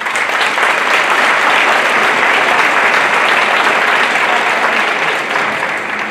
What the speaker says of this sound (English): So let's applaud for that.